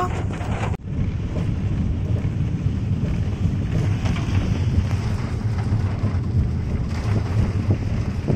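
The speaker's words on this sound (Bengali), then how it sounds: "বাইরে খুব বৃষ্টি পড়ছে আমরা গাড়ি করে যাচ্ছি" Heavy rain drums on a moving car during a downpour, a dense, continuous wash of noise with low road and engine rumble beneath it. It stays loud and steady throughout, and no one speaks.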